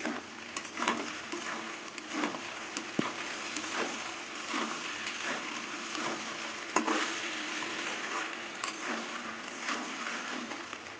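Taro frying in a pan for a poppy seed dish, a steady crackling sizzle with occasional sharper pops and stirring scrapes, close and even throughout, no voices.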